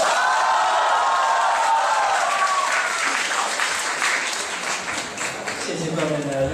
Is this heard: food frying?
no